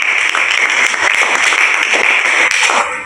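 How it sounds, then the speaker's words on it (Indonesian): Steady, dense applause from a school class audience for the final student group presenting a democracy-themed project, loud and continuous for about three seconds before tapering slightly at the end. "Tepuk tangan dulu."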